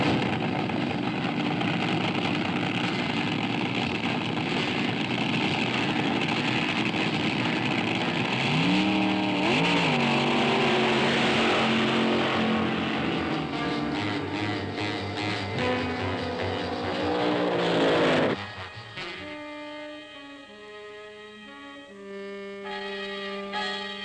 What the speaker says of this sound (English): At a big meet, cars run down the drag strip every 28 to 34 seconds.